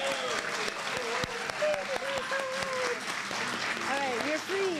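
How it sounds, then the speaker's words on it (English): Audience applause for the chefs at a dinner theater event, steady dense clapping throughout, with voices talking and calling out over it. "Please do give them a round of applause."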